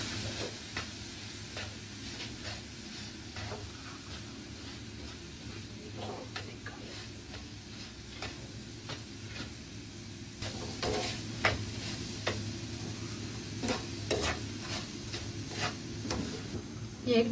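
Egg paste is stirred into a semolina mixture cooking in a pan for sweet suji tikiya, making a low steady sizzle under repeated scraping and tapping strokes of the spoon at a fairly even pace, with a voice faintly present in places.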